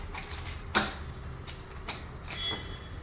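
An electric brush cutter shaft is extended after loosening a bolt, and its locking pin is pressed, producing a few sharp close clicks and faint creaks of plastic and metal in otherwise quiet surroundings.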